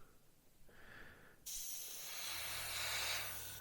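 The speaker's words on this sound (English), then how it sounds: "you see how the airbrush is just picking out the raised framing." Airbrush spraying paint at low pressure onto a Hobby Boss M1070 Oshkosh HETS model truck cab, a faint hiss at first, a short tone, then a steadier, louder airy spray hiss that holds to the end with no voices.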